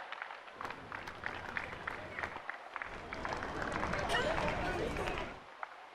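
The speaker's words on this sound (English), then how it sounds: "I think the applause should go on your Delhi." Audience applause in a crowd at a tennis tournament ceremony, the Delhi Open in New Delhi, swelling steadily to a loud peak before tapering off, with a few bursts of claps in between.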